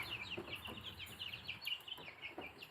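Young golden comet chicks clucking and peeping indoors, a run of soft repeated chirps under steady background hum, fairly faint and with no talk.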